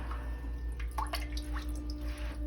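Brondell LE99 bidet running its nozzle-cleaning cycle, water spraying over a stainless steel nozzle, heard as soft dripping and trickling under a steady low hum, quiet and close, with no talking.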